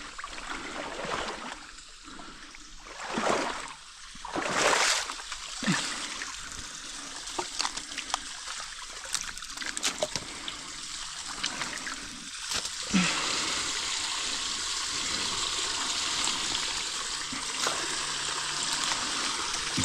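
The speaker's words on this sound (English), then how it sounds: "I'm gonna drain some water, boys" Water draining and splashing at a hunting spot, a steady running gush that builds and holds loud, with scattered splatters and bursts early on.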